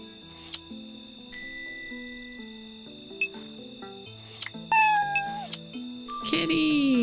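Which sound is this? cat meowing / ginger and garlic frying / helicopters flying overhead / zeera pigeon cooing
cat meowing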